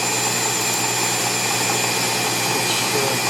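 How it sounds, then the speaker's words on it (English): A Tormach PCNC mill runs a spot drill that chamfers the tops of drilled holes in a vintage part, giving a steady, loud whir of spindle and machine noise with no break. "The spot drill's actually larger than that drill, so it's kind of giving it a little bit of a chamfer in places."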